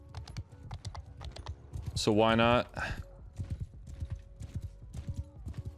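Rapid, rhythmic hoofbeats of a galloping horse in the video game Bannerlord clatter steadily throughout, with a brief horse whinny near the middle and a short spoken phrase over the galloping.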